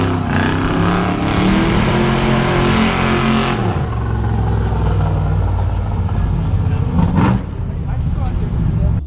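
Someone's big-block engine revs hard at a car cruise, a loud, throaty roar that drops in pitch as it falls back toward idle, then blips again. Voices talk over it.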